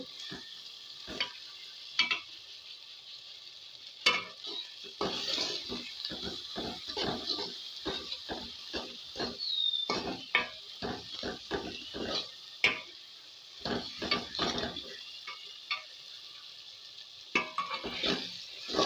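Potatoes for a spiced alu kosha are stirred and fried in a pan, with repeated spatula scrapes and clatters coming in irregular bursts over a soft, continuous sizzle. Brief pauses fall between the strokes.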